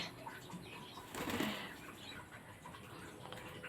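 Pigeons flap their wings as they circle around a boy, climbing onto his shoulders, back and head; a brief burst of fluttering rises near the middle over a quiet outdoor background, with no talk.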